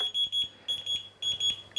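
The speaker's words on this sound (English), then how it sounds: "3 beeps means it's trying to now bind to D16 version 1" A RadioMaster T8 Lite RC transmitter gives three short, evenly spaced high-pitched electronic beeps while binding in D16 mode, clear and close in a quiet room.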